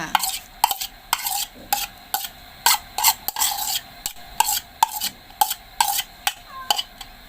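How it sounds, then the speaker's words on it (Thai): A utensil scrapes and stirs chopped onion with tomato ketchup in a pan for a burger filling, in quick repeated strokes with a light sizzle underneath, close and steady, with no voices. "แล้วก็ผัดให้เข้ากันเลยนะคะ ผัดจนหอมเลยนะคะ"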